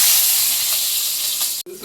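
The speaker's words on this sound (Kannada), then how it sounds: "ಚಾಪ್ ಮಾಡಿರುವ ಬೆಳ್ಳುಳ್ಳಿ ಹಾಕ್ತಾ ಇದ್ದೀನಿ" Chopped garlic dropped into hot oil in a home kitchen while making egg rice: a loud, steady, bright sizzle and hiss that runs almost unbroken, then cuts out briefly near the end before resuming.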